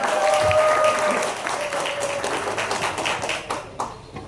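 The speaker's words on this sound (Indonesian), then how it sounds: "Tepuk tangan untuk Bapak Wahyudin" A seated crowd claps for a candidate at an Indonesian neighbourhood meeting in Krian, Sidoarjo. The applause is loud and full at first, then thins into scattered, separate claps, with faint voices underneath.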